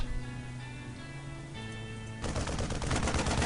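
Marine gunfire in StarCraft II rattles out as a loud, dense burst of rapid shots starting partway through, following a stretch of game music and ambient battle sound.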